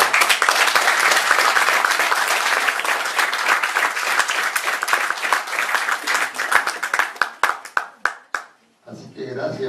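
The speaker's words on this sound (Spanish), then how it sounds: "Así que gracias por el aplauso también hacia ellos" Loud, dense audience applause fills a hall during a talk, steady clapping that thins into scattered claps near the end before cutting off.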